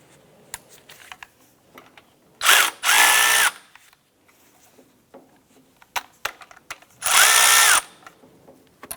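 Power tool loosening bolts on a Honda Civic timing belt, two short loud whirring bursts several seconds apart, with scattered clicks and clanks of handling in between.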